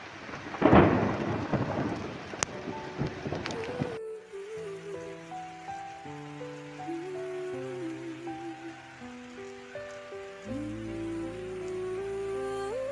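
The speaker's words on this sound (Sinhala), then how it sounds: "හැබැයි අකුණු ගහනවට ගොරවනවට මං නම් ටිකක්වත් කැමති නෑ." A thunderstorm with rain opens with a loud, close crack and rolling rumble of thunder over rainfall. After about four seconds, melodic music takes over with the storm fading underneath.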